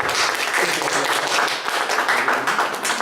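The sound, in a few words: applause for a speaker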